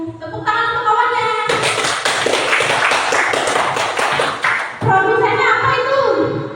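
Classmates clap together in a classroom for a fellow student, a dense burst of hand claps lasting a few seconds, bracketed by a teacher's voice talking before and after.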